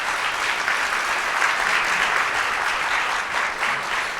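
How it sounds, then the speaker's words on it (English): Sustained applause from an audience at a Rotary speech contest, a dense, even wash of many hands clapping throughout with no voices. "Big round of applause for everybody."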